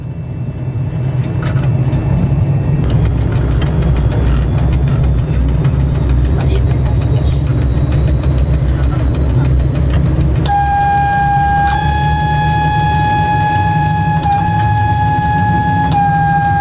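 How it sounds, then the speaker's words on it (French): A train locomotive on the Sidi Kacem to Tangier line in Morocco gathers speed after departure, its loud, steady low engine drone close by, with rhythmic ticking and a sustained high whistle-like tone joining in later. "Rachid, assisté par son chef de train, exécute progressivement sa montée en vitesse."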